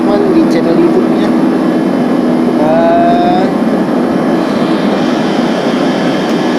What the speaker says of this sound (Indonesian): nyalain pesawat Boeing itu kayak begini